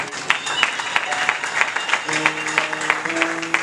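Church congregation applauding loudly for the Lord during a French-language deliverance sermon, rhythmic clapping beats over a bed of crowd noise, with sustained musical tones entering partway through.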